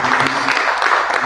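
A seminar audience breaks into a round of applause, a dense, steady wash of clapping that holds at an even level through a brief burst.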